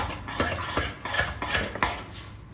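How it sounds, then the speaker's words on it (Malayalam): A spoon stirs ground cardamom and other spices into pumpkin payasam in a cooking pot. Close, repeated scraping and clinking strokes keep a loose, steady rhythm, with no talking. "ഏലക്ക ഒരു 2 എണ്ണം എടുത്തത് പൊടിച്ചത്, എല്ലാം കൂടി നല്ലപോലെ മിക്സ് ചെയ്യാം."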